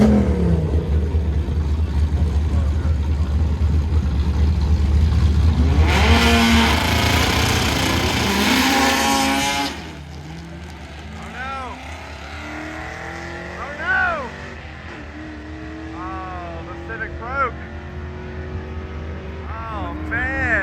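Drag race cars, an all-wheel-drive Civic and an old Firebird, roar down the strip, a loud sustained rumble swelling to a peak midway and then fading into the distance while people talk.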